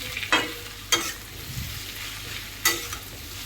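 Okra pieces fry in a pan under a soft, continuous sizzle while a spoon stirs them, giving three sharp scraping knocks against the pan spaced unevenly apart.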